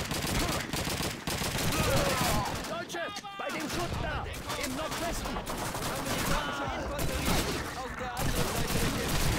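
Artillery and gunfire boom in the Call of Duty 2 video game battle across the Rhine, a dense, continuous barrage of loud blasts and rattling shots with a short lull partway through.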